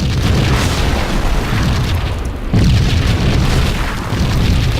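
Heavy artillery blasts in the video game Max Payne, a dense, continuous rumbling barrage of booms with a brief dip midway before the loud pounding resumes, no voices.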